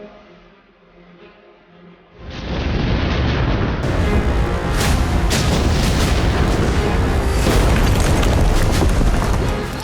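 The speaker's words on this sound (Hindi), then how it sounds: "पहला धमाका रात 1:37 पर, दूसरा ब्लास्ट रात 1:42 पर।" Explosion at the Jammu Air Force Station at night, a loud deep boom that bursts in after a quiet stretch and rolls on as a sustained heavy rumble to the end.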